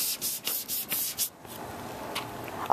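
Hand sanding a car trunk with 320 grit sandpaper makes rapid rhythmic scratchy strokes, about eight quick rubs, then a softer, steadier rasp, all close up with no talk.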